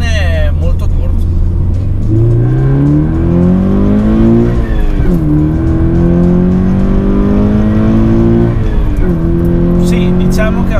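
Inside a Toyota GT86 sports car, the engine climbs through the revs in repeated pulls with quick gear shifts between them, loud and close beneath someone talking.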